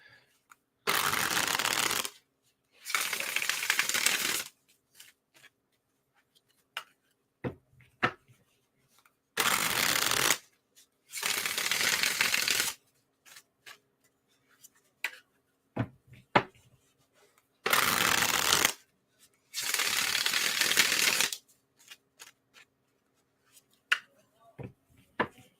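Tarot cards are riffle-shuffled in several brisk bursts, separated by pauses filled with light taps and handling sounds.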